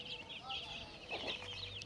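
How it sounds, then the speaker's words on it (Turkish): Chickens scratch through rice husks for food, giving soft, scattered clucks at low volume over a steady background hiss, with a brief rustle midway. "Tavuklar eşeleniyorlar. Oralarda bulduklarını yiyorlar."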